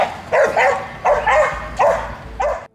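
A bull terrier barks in four loud, close bursts spaced evenly, each a deep yelping bark with rough, strained tone, the last one cutting off abruptly.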